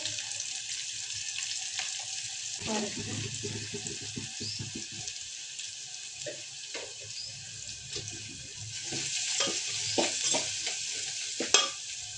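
Urad dal fries to a golden brown in hot oil as a tempering for a Mangalore-style masala dosa potato bhaji, giving a steady soft sizzle broken by scattered clicks and scrapes of stirring. No one speaks.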